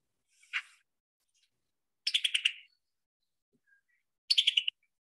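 A tanager-type songbird gives three short, clear calls in quiet surroundings: one single note, then two quick rattled 'picky tucky tuck' phrases spaced about two seconds apart, close and distinct.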